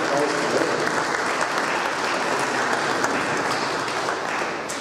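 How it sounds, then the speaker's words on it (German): A large audience inside the Passionskirche gives loud, dense, sustained applause at a public hearing, the clapping filling the room and tapering slightly at the end. "das ist in der Tat ein großer Applaus"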